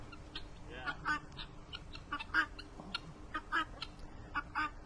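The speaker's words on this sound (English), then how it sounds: "The guinea hens are trying to come and see." Guinea hens give repeated short, harsh calls in bursts near a road outdoors, the squawks rising above a steady background with some quiet talk mixed in.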